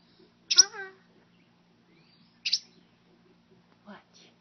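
A tiny fledgling bird that has just left its nest, perched on a house wreath, gives three short, thin chirps spaced about a second and a half apart, close by in otherwise quiet surroundings.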